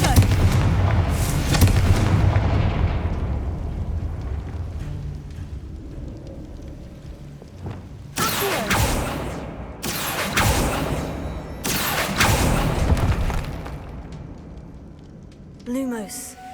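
Confringo fire spell blasts in Hogwarts Legacy: three loud, sharp explosive bursts in quick succession, each with a brief crackling tail, following a rumbling stretch of ambient noise.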